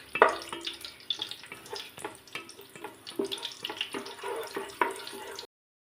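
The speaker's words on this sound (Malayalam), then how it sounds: "ഇതിലേക്ക് നമ്മൾ ഉണക്കമുന്തിരി ഇട്ട് കൊടുക്കുകയാണേ." Raisins fry in hot oil in a pan while a biryani is being made, giving a steady, close sizzle and bubbling, broken by small pops and clinks. The sound stops abruptly just before the end.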